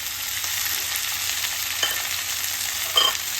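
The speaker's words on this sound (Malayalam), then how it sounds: "രണ്ട് ടൊമാറ്റോ കട്ട് ചെയ്തത് ഇടാം." Chopped onions and tomatoes fry in a pan for tomato chutney, giving a steady close sizzle with occasional soft stirring scrapes and no talk.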